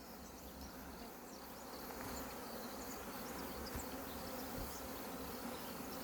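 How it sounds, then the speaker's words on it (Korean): A dense, continuous buzzing of many honeybees and hornets hovering nearby at an outdoor feeding spot, a steady insect hum with no talking, holding at an even level throughout. "꿀벌만 모이는 게 아니라 말벌도 이 자리에 모입니다."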